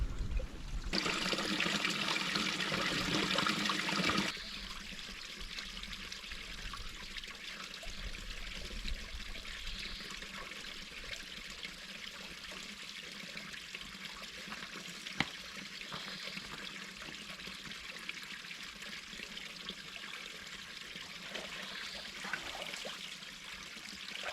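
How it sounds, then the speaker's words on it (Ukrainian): Water trickles and splashes steadily, loud and close at first, then settling into a softer continuous dribble with occasional faint clicks. "А ось і джерело."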